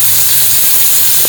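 Chicken pieces hit a hot pan of sesame oil while making Korean kimchi fried rice, giving a loud, steady, close sizzling hiss that fills the whole moment without any talk.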